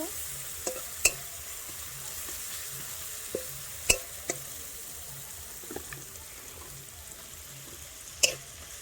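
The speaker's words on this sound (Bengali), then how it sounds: "এবার পেঁয়াজগুলো একটু লাল লাল করে ভেজে নেবো" Onions fry in oil for chowmein with a soft, quiet sizzle, broken by several sharp utensil clinks and taps scattered through, with no voices.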